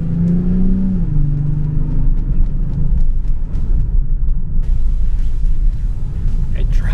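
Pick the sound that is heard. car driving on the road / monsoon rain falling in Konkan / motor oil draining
car driving on the road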